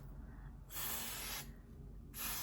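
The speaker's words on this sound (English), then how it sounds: "I'm gonna go in with some Tresemme Extra Hold Hairspray, level 4." Tresemme Extra Hold hairspray, level 4, is sprayed from an aerosol can in two clear, loud hissing bursts separated by a short pause, close to the microphone.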